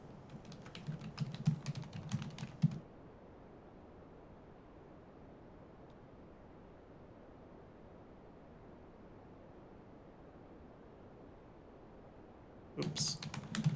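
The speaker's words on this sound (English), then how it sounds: "I'm just going to type in some random text." Keys clatter on a computer keyboard as text is typed, in a quick burst of close keystrokes, then a long quiet pause before another short flurry of typing at the end.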